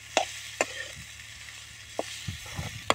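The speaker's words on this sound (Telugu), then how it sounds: "అల్లం వెల్లుల్లి పేస్ట్ వేసినాక కొద్దిసేపు మగ్గాలి" Ginger garlic paste and tripe (boti) frying in oil give a soft continuous sizzle, with a few sharp clicks and taps of a utensil against the pan, close and fairly quiet.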